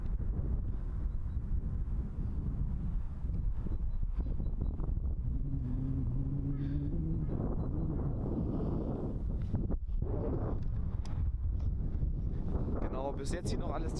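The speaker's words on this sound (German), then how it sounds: "Wie gesagt, der Wind geht jetzt doch doller. Man hört ihn, denke ich, ziemlich stark." Strong wind from storm Sabine buffets the microphone on a height above Ettlingen in a constant low roar with gusty surges, and a voice is briefly heard partway through.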